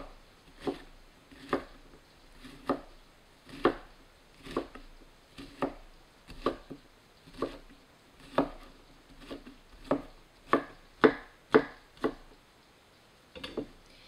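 A knife chops lemon peel into small pieces on a board, for lemon jam: about twenty sharp, evenly spaced cuts that bunch closer together toward the end, close-up and with no voices.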